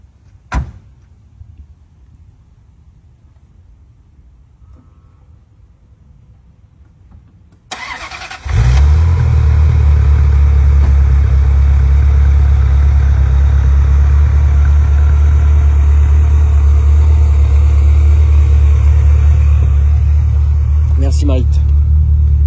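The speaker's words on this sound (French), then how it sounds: "Marie, je te laisse filmer le démarrage" A new car's engine cranks and fires up after a few faint clicks and a door sound, then settles into a steady, loud, close idle that drones on alone for well over ten seconds.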